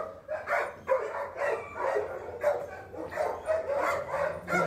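Puppies bark and yip in a busy, overlapping run of short, high calls, fairly close, with soft whimpers between them and some faint background activity.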